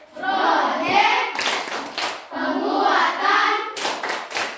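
Schoolchildren in a primary school classroom perform a rhythmic group clap in two bursts of patterned claps, each preceded by voices chanting together.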